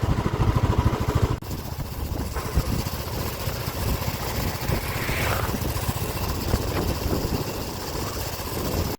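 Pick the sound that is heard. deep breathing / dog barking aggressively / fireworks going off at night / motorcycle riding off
motorcycle riding off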